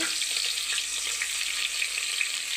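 Onion pieces and kasuri chillies fry in hot oil, giving a close, continuous sizzle with small crackles and light stirring noises throughout.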